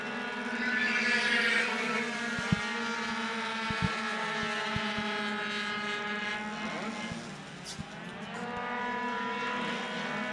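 Several 50cc racing scooters scream around a circuit during a French trophy race final, their high, buzzing engine whines overlapping and shifting pitch as they pass, with a steady drone of other machines behind.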